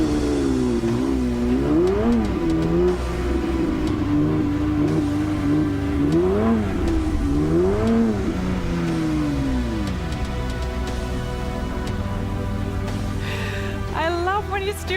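A new Porsche 911 GT3 engine revs loudly and close by in repeated rising and falling sweeps, with sustained high-revving passages between, as the car presents at a premiere event.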